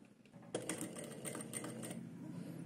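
A sewing machine stitches a blouse in one continuous, fairly faint run of rapid, even needle clatter with a low motor hum.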